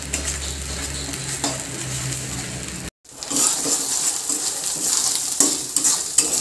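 Kharkol leaf paste stirred in a pan, a steady wet sizzle with occasional spoon scrapes, close by, briefly cut before resuming louder, with no talking.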